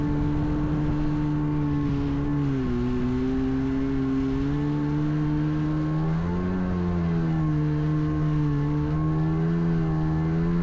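A Seadoo HX jetski engine drones steadily and loudly close by, its pitch wavering and rising as the ski rides over a big boat's wake, with no talk over it.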